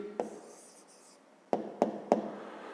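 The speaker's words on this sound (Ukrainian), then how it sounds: "Записуємо відповідь." Pen on paper while a math answer is written by hand: a short scratch, a soft stretch of writing, then three quick taps or strokes, close and quiet.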